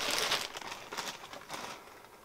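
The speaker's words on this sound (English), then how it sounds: "Go ahead and take it out of the plastic." A small RV dehumidifier gadget is pulled out of its plastic packaging, close and fairly quiet, with several bursts of crinkling and rustling plastic.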